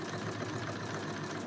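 A sewing machine stitches fabric in a steady, fast mechanical whir with an even rattling pulse, close and continuous for the whole stretch, with no talking over it.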